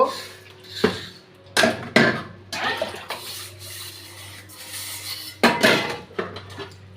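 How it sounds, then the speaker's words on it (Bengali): Pots, pans and dishes being washed at a home kitchen sink in the morning: irregular clatters and clanks of metal and crockery over running water, with several sharp knocks and no talking. "শুরু করলাম সকালের হাঁড়ি পাতিল বাসন পেলা দিয়েই"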